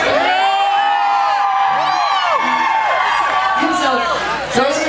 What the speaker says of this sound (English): those are all the people that screamed